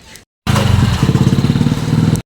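A motorcycle engine starts close by after a short pause and runs with a rough, pulsing putter, loud and steady as the rider sets off.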